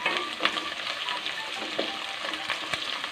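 Ginger and garlic sizzle steadily in a hot pan for a sweet pickle, a dense crackling hiss with a few sharper spatters and stirring scrapes, close and continuous with no talk.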